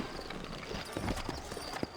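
Horses' hooves clip-clop on a town street in the Western game Red Dead Redemption, a quick irregular patter of thuds over a busy ambient background, moderately close.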